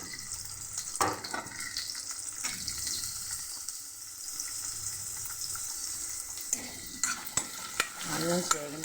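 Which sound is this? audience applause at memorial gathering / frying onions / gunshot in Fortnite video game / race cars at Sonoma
frying onions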